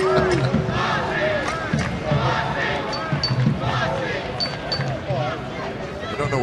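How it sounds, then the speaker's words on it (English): Fans in the right-field seats chant a player's name at an Angels at Oakland Athletics baseball game, a dense rhythmic roar from a large crowd with a voice talking over it. "the crowd is chanting my partner's name"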